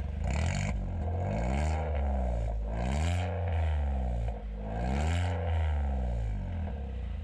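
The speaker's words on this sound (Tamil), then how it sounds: "ப்ரோ ரெவ் பண்ணு." A modified Volkswagen Polo with a 1.2 MPI engine and aftermarket exhaust, revved hard at standstill in four rising and falling sweeps, loud and close, with a deep droning exhaust note.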